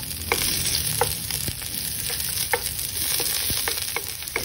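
Garlic and onion sizzle and fry in a pan for a pork and young corn stir fry, a steady close crackle with scattered sharper pops and light stirring scrapes throughout.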